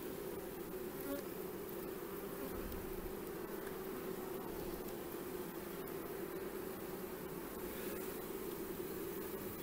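Honeybees drone steadily around a hive made up with a package of bees, their buzzing a continuous close hum with no voices.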